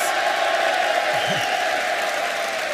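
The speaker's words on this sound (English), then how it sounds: "It's great to hear the crowd, even from here." A crowd at the 2023 launch of the Scuderia Ferrari SF-23 Formula 1 car applauds and cheers steadily but at a distance, a faint, continuous wash of clapping with a brief voice in it.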